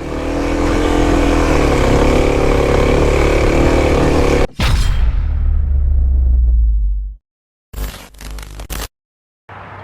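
A 2021 Kawasaki KLX300 dirt bike on an off-road trail, its engine loud and close as it revs hard for several seconds, then drops away and cuts out, with short bursts of noise returning afterward.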